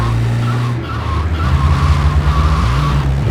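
Engine drone of a car in the video game GTA Liberty City Stories, a steady layered tonal hum that rises in pitch partway through, with tire skid noise mixed in and no talking.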